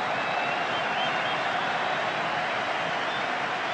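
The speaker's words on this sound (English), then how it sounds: "Billy Bremner enjoying the applause of this crowd" A football crowd at a Leeds United versus Barcelona European Cup match applauds at half-time, a steady, dense wash of clapping from a large stadium audience, heard at a distance and unbroken throughout.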